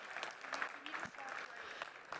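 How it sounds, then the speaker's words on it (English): Audience applause at ITB Berlin, a faint, steady patter of clapping from a crowd with a voice mixed in. "Let's give them a round of applause, please."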